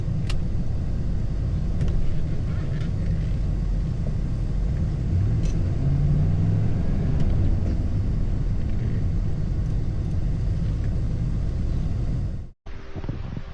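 A 1989 Chevrolet Silverado pickup truck on the road, a steady low engine and road rumble with wind noise heard from inside, continuous until a sudden cut near the end.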